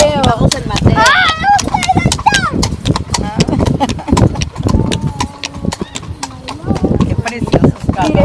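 Horse hooves clip-clopping on a plaza street in Spain, a steady rapid rhythm of sharp close hoof strikes with Spanish speech over them throughout.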